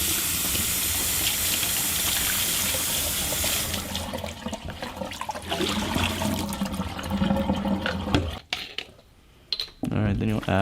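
Water runs and splashes steadily while rinsing developed film in a Paterson developing tank, loud and continuous for several seconds before breaking off, with brief clatters of the tank and a pause near the end.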